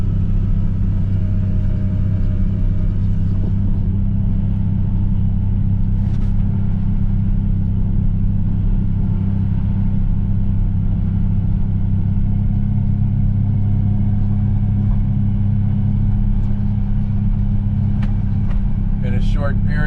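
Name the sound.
vehicle engine driving up a valley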